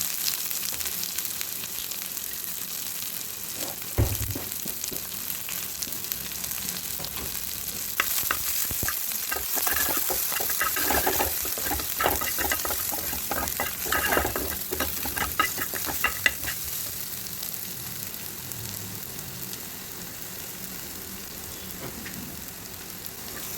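Onions frying in a pan of oil with garlic and dried chili, a constant crackling sizzle that swells after they drop in, with repeated stirring scrapes through the middle.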